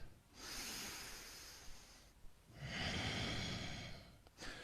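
Two long, steady breaths drawn during a yoga stretch, each a soft, close airy rush lasting a couple of seconds with a brief pause between, and no talking.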